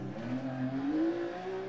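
Rally car engine in Dirt Rally 2.0, revving and climbing steadily in pitch as the car accelerates through a forest stage, heard alone at moderate level.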